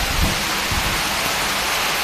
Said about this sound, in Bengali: কি সুন্দর বৃষ্টি নামছে।